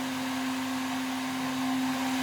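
An iron-on edge banding machine with a faulty switch runs steadily as edging is pushed through its rollers against a workpiece, giving a constant, loud, close motor whir with a strong steady hum and airy broadband noise, no talking.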